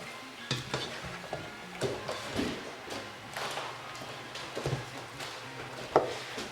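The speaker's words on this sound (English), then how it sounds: "We'll give it a quick stir again." Sausage, pork and cabbage being stirred in a sizzling pan, with repeated scraping strokes of a utensil over a steady low fry.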